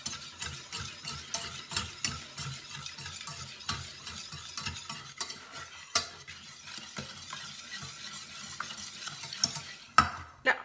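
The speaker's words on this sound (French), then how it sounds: "Vous remuez." Homemade modelling dough mixture being stirred in a pot after coloring is added, a repeated rhythmic scraping and sloshing with soft sizzling texture and occasional clicks of the utensil, close and without speech.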